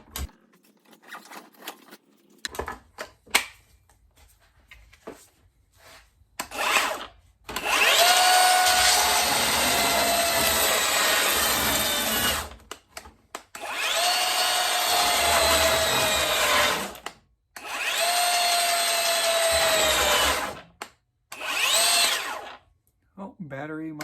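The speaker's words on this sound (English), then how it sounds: "We're gonna try this belt sander for the first time." A battery-powered belt sander runs in three loud bursts of several seconds each, separated by short pauses, with scattered handling clicks and knocks before the first run.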